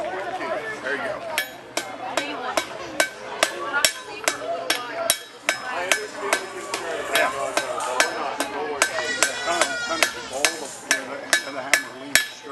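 Repeated sharp metallic strikes of a hammer ring out in a steady, uneven rhythm, close and loud, with people talking underneath.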